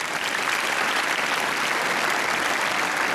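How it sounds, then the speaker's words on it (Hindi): Loud, continuous applause from an audience gathered for a street play on health and hygiene awareness, steady dense clapping with no voices, filling the whole stretch. "आप ही के लिए एक बार जोरदार ताली बजा लीजिए।"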